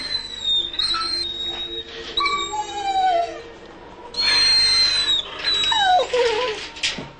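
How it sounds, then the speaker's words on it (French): Greyhounds kept three or four to a concrete box in a racetrack kennel near Rome whine, yelp and howl loudly in overlapping high cries, with several dogs calling at once. "Près de 400 chiens installés par 3 ou 4 dans des boxes de béton."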